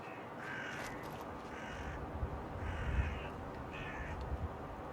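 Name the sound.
crows cawing in Fallout: London video game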